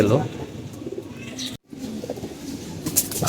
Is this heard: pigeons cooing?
yes